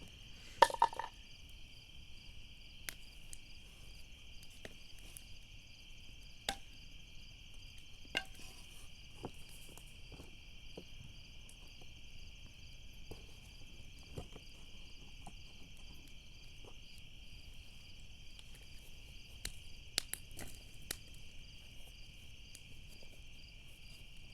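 Steady high-pitched trilling calls from many tree frogs drone continuously through a quiet night, with occasional faint clicks and taps nearby.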